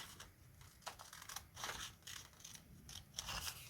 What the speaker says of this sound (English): So we're going to cut this one.